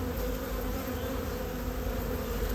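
Wild bees swarm into a hive in a steady, close, dense buzzing drone that holds at an even level throughout, with no voices.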